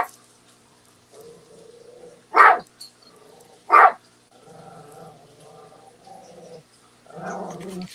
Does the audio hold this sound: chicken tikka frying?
no